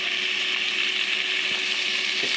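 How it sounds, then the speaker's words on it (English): Smoked chili and cheese sausages fry in a pan with a steady bright sizzle, close and continuous, broken by a few faint knocks. "Just frying up some sausages to go with."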